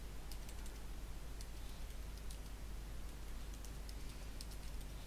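Light, rapid keystrokes on a computer keyboard as a web address is entered, faint soft ticks in an irregular run over a steady background hiss.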